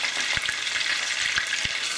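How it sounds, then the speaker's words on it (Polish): Sea bream fish frying in butter in a pan, giving a steady bright sizzle with crackling spits and a few soft pops throughout, close and continuous with no talking. "Rybkę mam już podsmażoną z obu stron, a zatem wyłączam gaz"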